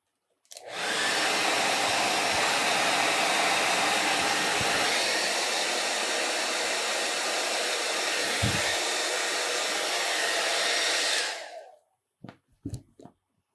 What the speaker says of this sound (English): I'm just going to dry those real quick.